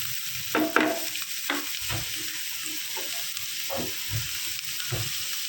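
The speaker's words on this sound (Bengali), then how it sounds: "লবণ দিয়ে সফট করে পেঁয়াজটাকে লাইট গোল্ডেন হয়ে আসা পর্যন্ত ভাজতে হবে" Chopped onion frying with salt in a pan until light golden: a steady close sizzle with occasional scraping stir strokes, no talk.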